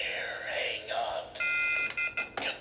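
A spooky-themed phone ringing in an indoor scene, heard as steady electronic tonal beeps in short bursts over the last second, with voices talking throughout.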